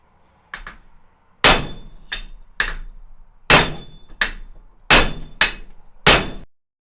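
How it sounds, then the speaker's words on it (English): Loud metallic clangs ring out one at a time, about nine heavy sledgehammer strikes knocking out a Vauxhall Vivaro wheel bearing at uneven intervals, each with a short ringing decay. "it's the sledgehammer, because it's wide enough to knock it out, and then a lump hammer"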